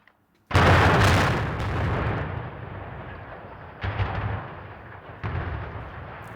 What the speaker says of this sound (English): A huge building at a former steelworks came crashing down in a plume of smoke in what's thought to be one of the biggest controlled explosions